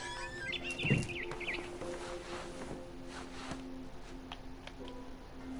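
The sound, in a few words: barn swallow chirping, from a video game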